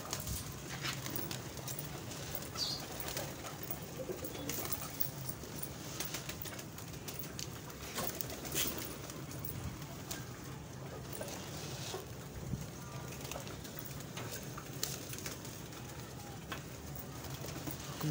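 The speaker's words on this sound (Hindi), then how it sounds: "कबूतर मेरे सारे दाना खाने लग पड़े हैं" Pigeons feed on scattered grain in the evening, giving soft pecking clicks and flutters with occasional cooing amid a continuous outdoor background hum.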